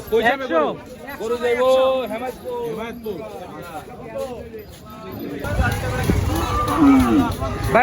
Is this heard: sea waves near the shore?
no